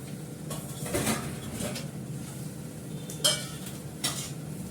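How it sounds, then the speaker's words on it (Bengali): Pots, dishes and utensils being scrubbed in a home kitchen sink, with a few clinks and scraping bursts over low background noise, fairly close and moderate in level. "আমি তখন এই বাসন কটা মেজে রান্নাঘরটা পরিষ্কার করে নিই"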